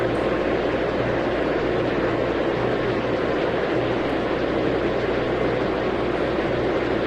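An airliner arriving at Jeddah airport in the Tower!3D Pro airport simulation, heard as a steady, continuous engine drone with a low hum, constant in level throughout and with no talk over it.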